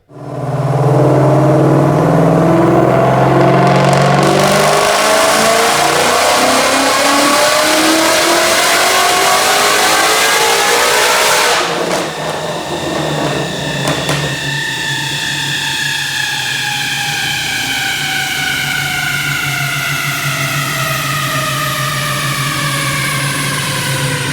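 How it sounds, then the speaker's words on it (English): A supercharged 2014 Saleen Mustang with a Paxton supercharger and cams revs hard on a chassis dyno, climbing loud and close to around 7,500 RPM, then falling back to a steady high idle with a whine, and no one talks. "Check out this dyno pull."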